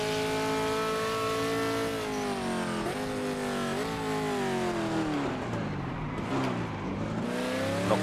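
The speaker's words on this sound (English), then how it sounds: "You can really rev this car." A GT3 race car in the Project Motor Racing video game revs hard and continuously, its engine note climbing and dropping through repeated high-revving pulls in third gear, loud and steady from start to finish with no talk over it.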